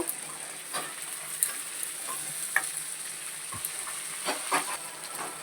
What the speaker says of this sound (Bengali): এটাকে আমি সুন্দর করে আরেকটু কষিয়ে নেবো